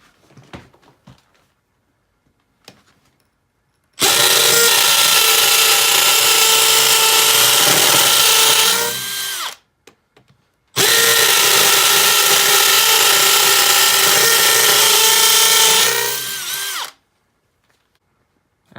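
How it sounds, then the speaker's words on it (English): A Makita XPH07 brushless hammer drill bores two holes in turn, each a loud, steady whir of about five to six seconds that winds down at the end, with short quiet gaps and faint handling clicks before and between. "So now I'll drill 2 more holes"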